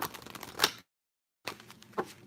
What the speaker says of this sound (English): I'm about to shuffle the book.